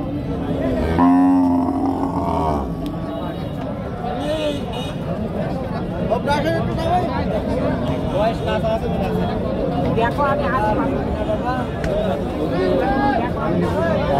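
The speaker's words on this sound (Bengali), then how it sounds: "দেশি জাতের গাভী গরু" Local-breed dairy cows at the Satmile cattle market, with a deep, drawn-out moo near the start rising above a constant crowd babble and someone talking close by.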